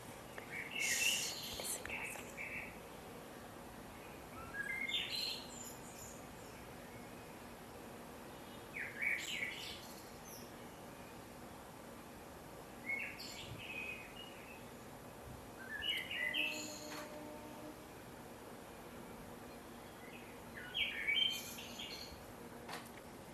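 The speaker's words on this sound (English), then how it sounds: "Birds. Bird song." Songbirds chirp and sing outdoors in a series of bright, separate phrases every few seconds, moderately loud over a faint, steady background hiss.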